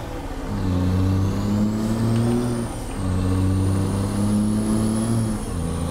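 A Freightliner Cascadia truck engine with a Cummins Big Cam N14, in a video game, hums with deep, steady tones that rise and fall twice in smooth revs, accompanied by a faint high whine.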